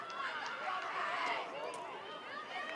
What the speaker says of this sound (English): Crowd once again in disbelief